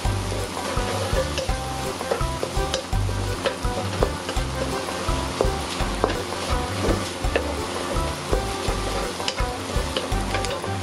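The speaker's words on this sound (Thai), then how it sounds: "ลงไปเลยนะคะผักกาดคลุกให้เข้ากัน ผัดให้เข้ากันสักครู่ค่ะ" Pickled cabbage stir-fried in a pan, making a loud, continuous sizzle broken by frequent rhythmic scrapes and clanks of the spatula, with no talking.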